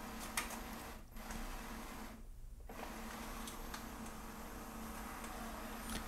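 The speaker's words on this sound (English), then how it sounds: "the printer will take one by one each pages and scan them" An Epson WorkForce WF-2960 or WF-2860 printer pulling pages from its document feeder and scanning them one at a time, a soft continuous mechanical whir broken by ticks and a short pause, close and fairly quiet.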